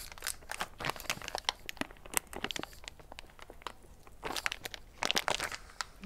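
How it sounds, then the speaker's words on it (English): Crinkly plastic packaging of udon noodles or mochi rolls being torn open by hand, a close series of sharp irregular crackles and rustles with short pauses, no talking. "Be smarter than the package, Sherry. Smarter than the package."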